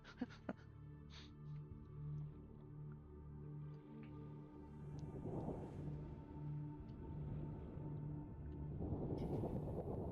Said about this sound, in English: I'm pretty sure that rolling sound is supposed to be thunder